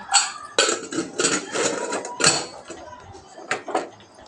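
A metal pressure cooker lid being fitted and locked in a home kitchen, a quick run of close clanks, scrapes and clattering knocks, loud and irregular.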